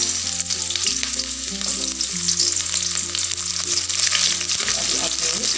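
Sliced shallots sizzling in hot oil while being stirred in a pan for padang-sauce shrimp, a continuous close frying crackle with scraping stir sounds and a steady low tonal hum beneath.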